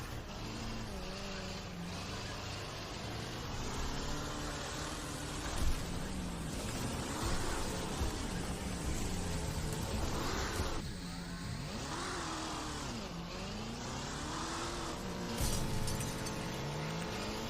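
Racing cars in the demolition derby video game Wreckfest, engines droning and revving continuously with occasional impact thumps, steady and fairly loud throughout with no talking.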